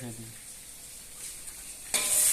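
Tomatoes cooking down in a frying pan for a fish roe dish, a soft steady sizzle that suddenly bursts louder near the end as the pan is stirred, with a brief low voice at the start.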